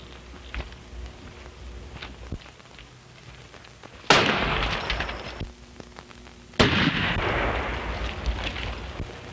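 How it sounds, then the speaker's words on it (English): Two sharp gunshots crack out from behind rocks in a 1933 western, each followed by a long, rolling echo over a low background. "The shot came from back of those rocks."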